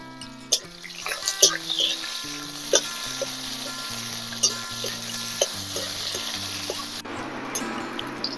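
Chopped medium onion added to a pan with crushed garlic for a lentil and gourd-leaf dish, sizzling steadily in oil with repeated stirring clatters and knocks, close by, with a tonal hum running under it.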